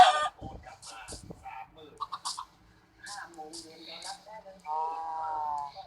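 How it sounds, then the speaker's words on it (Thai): A chicken in the video game Minecraft clucks in short bursts, mixed in with someone talking over it and some game effects, fairly close and clear. "อุ้ยไก่"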